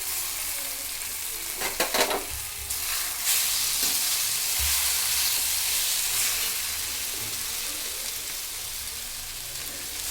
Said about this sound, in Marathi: कैरीचा केस त्यात टाकूया बारीक गॅसवर